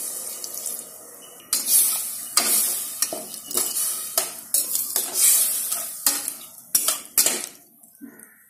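Tamarind water is poured and stirred into a simmering pan of sambar, with repeated bursts of splashing and sizzling and loud stirring, followed by brief pauses.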